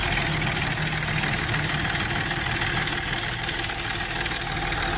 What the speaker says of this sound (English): He's gonna start the engine now.